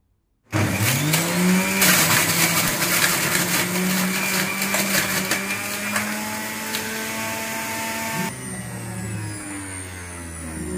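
Philips HL7705 juicer whirring as carrot pieces are fed in, a loud steady motor drone with shifting pitch as the load changes, and faint crunching of the carrot throughout.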